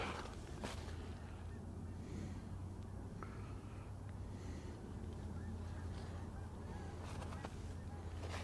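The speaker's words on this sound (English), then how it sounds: "Hear a bunch of geese. Man, they're flying late." A flock of geese passes overhead at night, their honks faint and distant over a steady low rumble, with occasional scattered calls rising and fading.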